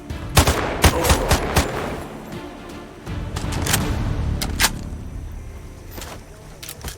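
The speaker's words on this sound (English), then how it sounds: "They're shooting at us!" Gunfire in the video game Sniper Ghost Warrior Contracts 2, sharp loud shots cracking in irregular bursts over a rumbling background, with heavier sustained noise in the middle stretch.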